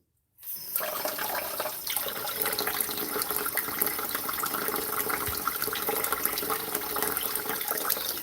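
Tap water runs in a steady, continuous rush in a home kitchen, starting abruptly and holding an even level for about eight seconds, close by and with no voices.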